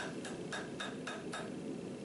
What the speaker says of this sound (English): I take it back to the anvil at a lower heat and start shaping the axe head.